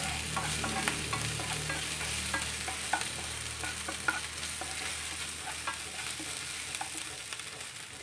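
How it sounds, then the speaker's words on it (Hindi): Ginger paste frying with onion in a pan for rajma curry, a dense continuous sizzle with faint scattered crackles and occasional light stirring taps, close and steady throughout with no voices. "भी प्याज के साथ भून लेंगे"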